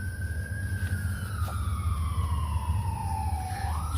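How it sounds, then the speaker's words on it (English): An emergency vehicle siren wails past in the evening outside a 55-plus community, its pitch sweeping steadily downward as it goes by, moderately distant over a low traffic rumble. "Here comes another siren."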